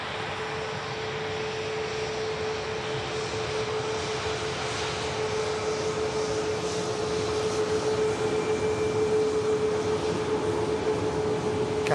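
An Icelandair Boeing 737 MAX taxis past at an airport, a steady engine whine with a sustained tonal hum over broadband rumble, growing slightly louder as it nears, with no talking.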